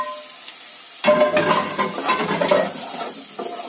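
Freshwater snails sizzle and sauté in a pan with scraping stirs, starting abruptly after a quiet second and crackling on at moderate volume.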